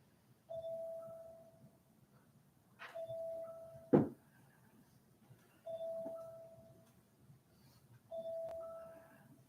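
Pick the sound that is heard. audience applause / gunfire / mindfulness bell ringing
mindfulness bell ringing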